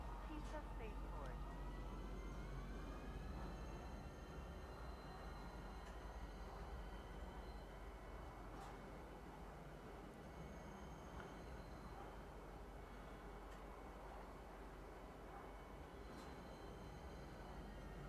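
Steady rumble of a train ride inside the video game Star Citizen, a continuous mechanical drone with faint rising whines and brief high clicks, loud and constant throughout.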